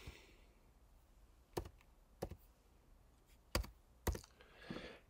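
A few sparse, faint key clicks sound as a session code is typed on a device, with four or five separate taps spread over a quiet background.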